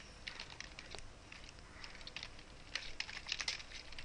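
Soft, quick computer-keyboard taps come in uneven bursts as a search is typed into Google, with a slightly busier flurry of keystrokes near the end.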